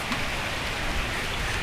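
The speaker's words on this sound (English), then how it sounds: "She says, Bill, it is pouring." Heavy rain pours steadily outside, a dense, even hiss of drops drumming on surfaces with no pauses, close and moderately loud, and no voices.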